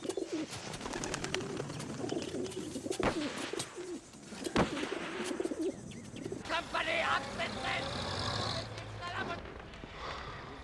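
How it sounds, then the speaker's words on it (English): An English carrier pigeon coos in a tense jungle war-movie setting, soft throaty calls repeating under ongoing dialogue and dense background ambience. "This is a good little English carrier pigeon."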